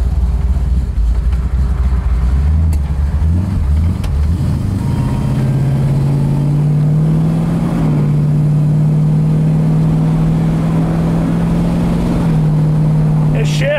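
A 1965 Pontiac GTO resto-mod on the road, its engine droning steadily in the cabin with a low, even tone that rises through a gear change and holds, while someone talks over it.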